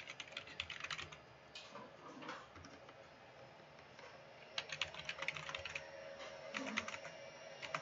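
Keys tapped on a computer keyboard while entering a password, quick irregular clicks in short bursts with brief pauses, close and moderately quiet, no talking.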